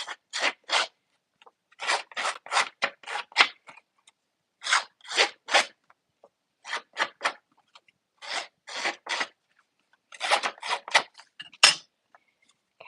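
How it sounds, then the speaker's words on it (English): Paper snips trimming around the edges of a piece of patterned designer paper, a series of crisp rasping cuts in quick bursts of three to six, close and fairly loud, with no talking. "So I'm going to just use my paper snips and go around the edges."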